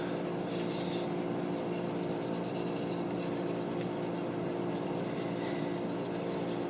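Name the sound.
light sanding of wooden stock pieces with 4/0 steel wool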